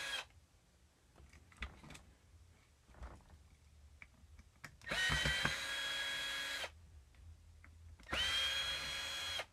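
A power drill whirs in two bursts, removing screws from the main motor of a Kirby Sentria 2 vacuum, each burst a steady high whine lasting about a second or two, close up, with quieter handling clatter between.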